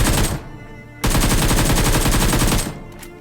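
Automatic gunfire in the mobile battle royale game BGMI, loud and close: a short burst, a brief pause, then a long sustained rapid-fire stream that cuts off near the end, with no voices over it.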